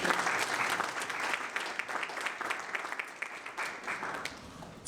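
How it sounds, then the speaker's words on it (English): Sustained audience applause fills a conference hall at a regulators' masterclass on protecting the non-profit sector, a steady dense wash of clapping with no voices over it. "Let's have a big round of applause for it."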